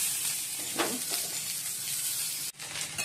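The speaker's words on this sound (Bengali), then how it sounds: "পটলটা ভেজে নিচ্ছি।" Pointed gourd (potol) frying in hot oil in a home kitchen, a steady close sizzle with a few louder crackling bursts and a brief dip near the end, no talk.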